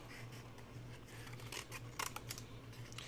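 Several crisp scissor snips cutting through thick cardstock, close and clear, in an irregular rhythm over a steady low hum.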